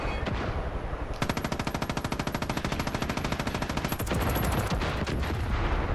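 Rapid machine-gun fire rattles in Far Cry 5, a long sustained burst of evenly spaced shots that stops abruptly, then gives way to a duller roar of game noise.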